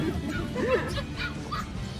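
At a pet market in Recto, Manila, a dog lets out short yips and a whining bark among busy background chatter, with people talking nearby.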